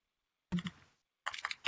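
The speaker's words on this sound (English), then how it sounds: "So here, I'm gonna start typing." Computer keyboard typing in two short bursts of quick, close clicks separated by a brief pause, fairly faint with no voices over it.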